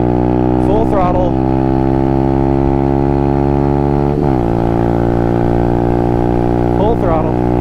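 A small motorcycle is revved hard at full throttle for a speed test, giving a loud, sustained, harmonically rich engine whine that briefly dips and climbs again at each gear shift.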